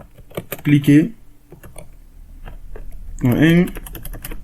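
Keys clatter on a computer keyboard as a tutorial title is typed, a quick run of close clicks with a person speaking at intervals over it.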